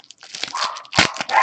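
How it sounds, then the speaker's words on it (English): Dogs bark excitedly indoors, a rapid, loud burst of several overlapping yips and barks close to the microphone with no talk. "the dogs are going crazy"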